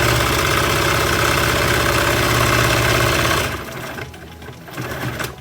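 A sewing machine runs at a fast, steady, close drone as it stitches a seam on a lined crossed-over drawstring bag, then stops abruptly, leaving softer mechanical clatter and handling sounds near the end.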